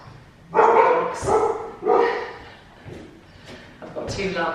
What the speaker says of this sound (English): I've got 2 Labradors.